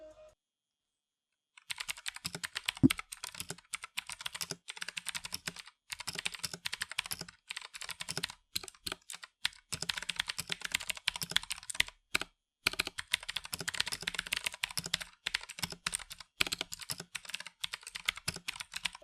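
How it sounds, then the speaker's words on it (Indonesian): Rapid, crisp keystrokes on an Armaggeddon MKA5R RGB lightweight mechanical keyboard with Huano switches, a steady close-up typing test of dense clicks in bursts with brief pauses and no talking. "setelah kalian sudah mendengar typing testnya ini"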